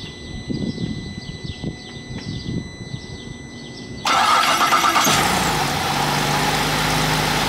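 A Chevy engine cranks with a freshly repaired, whirring starter motor, then catches and settles into a loud, steady running roar.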